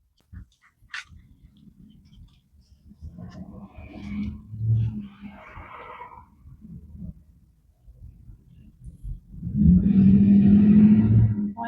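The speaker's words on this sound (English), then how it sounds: "Why is everybody and their mama got to drive down the street when I'm trying to read a story?" Cars driving down a residential street, low rumbling passes that swell and fade, with one louder, closer vehicle rolling by near the end and a brief dog-like yelp earlier.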